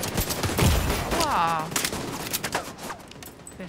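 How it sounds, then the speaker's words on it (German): Gunfire in The Division 2, a burst of rapid shots near the start followed by scattered distant cracks, with a voice briefly speaking over it. "Wer schießt da? Wer hat denn da so einen Wumms?"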